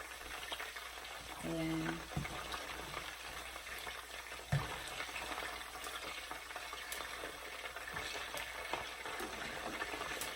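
Chicken frying in a pan gives off a steady, close, crackling sizzle as it is flipped, with a couple of soft knocks from the utensil and a brief spoken word.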